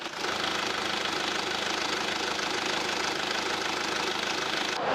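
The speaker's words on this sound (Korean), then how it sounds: "디젤 차량 특유의 우렁찬 엔진음만 딱 들리고 있었고" A SsangYong Super Rexton RX4 diesel SUV engine idles close by, a steady, rumbling, continuous gruff drone with a faint knocking texture, no talking.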